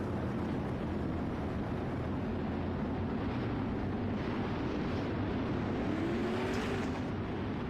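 Winged 360 sprint cars race in iRacing at Lanier, with a steady, fairly faint drone of engines lapping at a distance and no voices over it.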